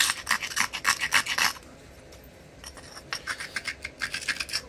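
Flint edge being abraded with a grinding stone on crumbly stone, rapid raspy scraping strokes in two bursts separated by a quieter gap, close and fairly loud with no talking.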